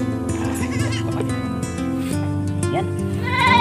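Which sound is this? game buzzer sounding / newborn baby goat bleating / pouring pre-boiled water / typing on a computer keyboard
newborn baby goat bleating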